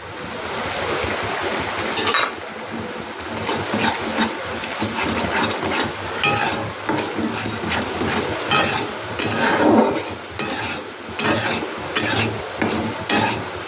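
Semolina (suji) is stirred in a cooking pan with a spoon, giving a close, rhythmic scraping and shuffling. It runs continuously at a steady level with no speech.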